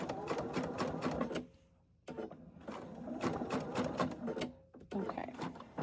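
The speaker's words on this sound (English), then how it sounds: "now we are going to base stitch." A sewing machine runs a basting stitch on a tie-style thread catcher, giving close rhythmic mechanical chattering in several runs separated by short pauses.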